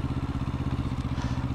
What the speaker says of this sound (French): Donc au niveau moteur, on est sur un 693 cm3, un bicylindre en ligne